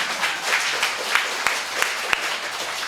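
A congregation at a Friday prayer meeting in a church claps in a rough, moderately loud burst of applause. Some sharper individual claps stand out above the steady wash.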